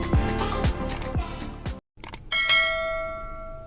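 Several short tones sound first, then a brief silence, then a single bright notification bell chimes and rings out, clear and sustained, with no voices over it.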